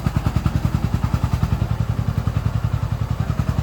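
A 4x4 kuliglig hand tractor engine labors under a load of heavy sacks, its loud, close chugging firing in a steady rapid rhythm of thuds throughout.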